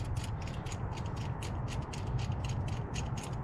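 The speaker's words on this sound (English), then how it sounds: "And then you screw this down into the hose" A metal fitting being screwed into an oil cooler hose, giving a steady run of close, quick, rhythmic clicks over a low mechanical rumble, with no talking.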